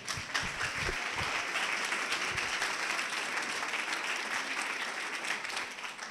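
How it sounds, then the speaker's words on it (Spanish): Hearty audience applause at a PechaKucha Night event in Salamanca welcoming a speaker, a dense, even wash of clapping from a crowd that stays strong throughout, with a few louder claps near the start. "Un fuerte aplauso."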